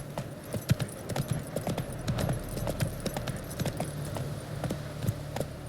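Hooves of the horse Roach in The Witcher 3, a steady rhythmic clip-clop of a trotting gait close by, continuing evenly throughout with a faint background hum.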